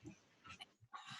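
Several pet dogs in a house scuffle and fight, giving faint, distant yips, growls and short barks in uneven bursts heard in the background.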